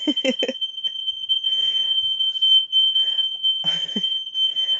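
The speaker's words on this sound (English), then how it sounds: "Apparently our smoke alarm is going off in the house right now" A piercing, steady high-pitched smoke alarm tone, set off by cooking in a house, sounds continuously, with indistinct talking underneath it.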